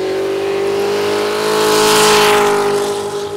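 Race cars out on shakedown laps before shipping to a race, with a loud engine drone holding a steady pitch that swells as a car passes close, then eases away.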